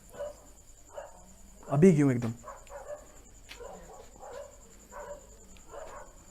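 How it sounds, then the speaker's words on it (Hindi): Dogs barking outdoors at night, with one loud close bark burst standing out over a steady chirp of crickets, while people talk quietly nearby. "कुत्ते तो भौंक रहे हैं,"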